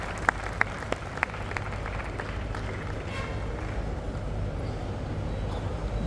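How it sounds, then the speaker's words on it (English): Audience applause at a Rotary International district conference inauguration, heard as a distant, steady wash of clapping with a few sharper individual claps near the start, set against a constant hall rumble. "Let's welcome them with a round of applause"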